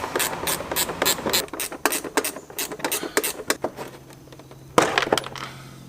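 Rapid, rhythmic ratchet clicking in close bursts as 8 mm screws holding an upper grille come out of a car's front bumper, with a short pause and a sharp knock near the end.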